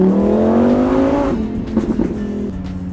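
A Lamborghini Huracan EVO RWD Spyder, a 2020 model, accelerates hard and close up, its engine note climbing through the revs before a brief shift and a further pull.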